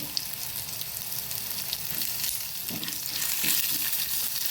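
Onion and chillies frying in coconut oil for Tuluva-style patrode masala, a continuous hissing sizzle close by that grows slightly louder toward the end, with faint stirring and no voices.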